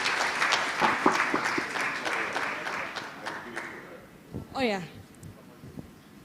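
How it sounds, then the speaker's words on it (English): Audience applause at an international workshop, a brisk burst of clapping that thins out after a few seconds, followed by a voice speaking over the quieter room. "Please give a big round of applause for all of us."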